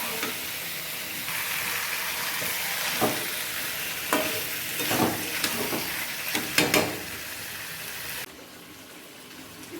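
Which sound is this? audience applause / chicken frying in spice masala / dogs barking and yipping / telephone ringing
chicken frying in spice masala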